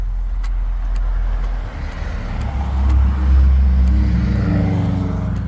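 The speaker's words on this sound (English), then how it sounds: "we do have to put up with some noise from the traffic" Loud road traffic rumbles past nearby, a heavy vehicle swelling and fading over a few seconds with a steady low drone.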